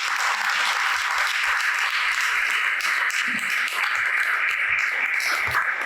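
An audience applauds the participants of a slam poetry contest final, a dense, steady wash of clapping that holds at full strength throughout.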